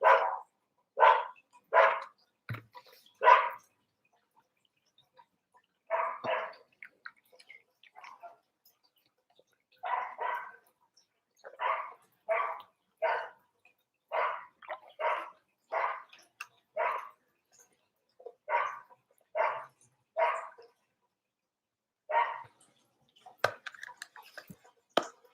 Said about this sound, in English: Oh my God, those dogs are so loud.